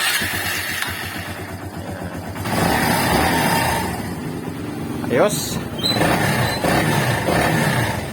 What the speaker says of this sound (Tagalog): pakinggan nyo yung andar ng makina